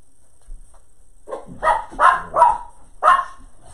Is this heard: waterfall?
no